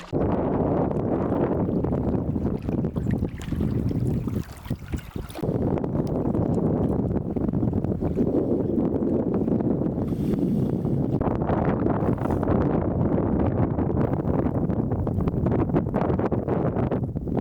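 A boat paddled along a river on a solo camping trip, heard as steady, loud wind buffeting with rushing water and faint rustle throughout, with no clear individual paddle strokes and no talking.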